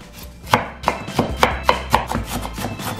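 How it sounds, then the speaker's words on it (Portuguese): A knife cuts an onion in half and slices it on a board for a home-style Japanese meal. Sharp chopping strikes land close up, about eight in a steady, slightly uneven rhythm, with no voices. "Cebola a gente vai cortar no meio e só cortar assim."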